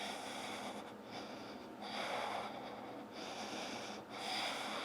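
Deep, steady breaths drawn in and pushed out through the nose during an advanced vinyasa yoga pose, in long slow cycles with a soft airy rush, close and even, with no talking.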